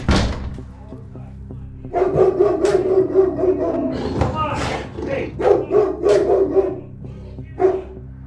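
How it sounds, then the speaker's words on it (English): A big, protective dog barks repeatedly behind a door in a house, with irregular loud barks and a door-like thud among them, mixed with nearby voices talking. "That's a big dog."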